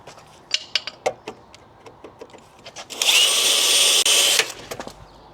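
A high, sustained spot weld drill whine bores into car body metal in an engine bay for about a second and a half, preceded and followed by sharp clicks and clanks of tool handling.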